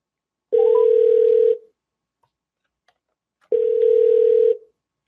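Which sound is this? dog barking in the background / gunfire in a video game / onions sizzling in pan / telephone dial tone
telephone dial tone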